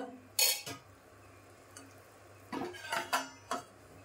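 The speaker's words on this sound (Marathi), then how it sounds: "मी ना झाकण बंद करून असं ठेवून देते" Several metallic clinks and clatters of cookware, a lid set down on a cooking pot of chicken with a couple of knocks, amid quiet background hum.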